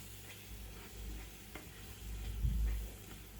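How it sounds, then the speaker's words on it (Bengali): Ground turmeric, coriander and chili powders are stirred in a frying pan, a faint steady sizzle with soft scraping stirs that swell slightly toward the end. "এগুলো আবারও একত্রে সুন্দর করে নাড়িয়ে মিশিয়ে নিব"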